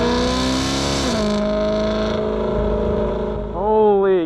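BMW M car engine on a damp race track, a loud close revving roar with falling and rising pitch as the driver shifts, then climbing hard again at the end.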